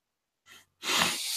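One sharp human sneeze, with a brief intake of breath just before and a loud, breathy, hissing burst close to the microphone.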